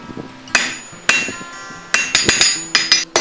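Hammer blows ring on metal against an anvil while a scarf is forged for a barn door eyelet, with about ten sharp, loud, bright strikes coming in uneven groups and tapping between them.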